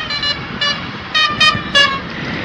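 A truck's horn honks several times in short bursts on a highway, loud and close, over steady road noise.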